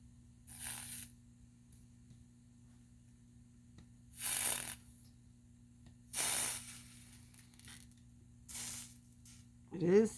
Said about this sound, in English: It is sizzling a little.